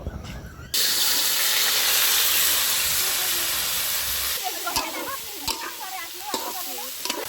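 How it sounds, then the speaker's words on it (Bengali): Cauliflower frying in a pan for a winter village vegetable khichuri gives a steady loud hiss and sizzle, joined midway by scraping stirring clatter close by. "এবার আমি ফুলকপিগুলো ভেজে নেব।"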